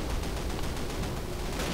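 Dense gunfire crackles continuously in a Call of Duty video game battle, a loud, steady burst of rapid shots with no speech.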